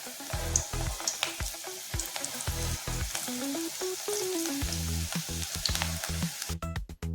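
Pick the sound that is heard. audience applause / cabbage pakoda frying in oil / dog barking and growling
cabbage pakoda frying in oil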